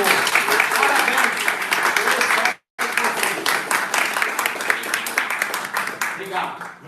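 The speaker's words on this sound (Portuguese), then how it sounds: "Vamos encerrar com palmas para todos os aposentados daqui do interior." Audience at a retirement talk in Brazil claps for the retirees, sustained dense applause with a brief gap of silence partway through, then continuing strongly with faint voices mixed in.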